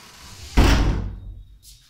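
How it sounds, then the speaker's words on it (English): A door swings shut with a single loud thud that fades quickly, followed by quiet. "Close the door. Close the door."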